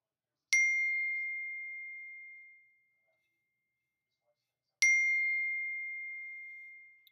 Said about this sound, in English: Sorry for all the dinging